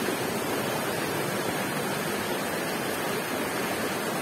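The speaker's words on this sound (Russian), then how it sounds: "Река, речка Агиос Николаус" The small Agios Nikolaos river runs through the old part of Kakopetria, Cyprus, giving a constant, full rushing of water close by, steady and unbroken with no voices.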